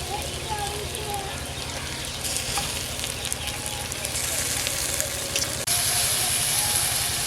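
Ginger, garlic and green chili paste with onion sizzles steadily in a pan over a village cooking fire, a dense, continuous crackling hiss with occasional stirring, close and fairly loud throughout.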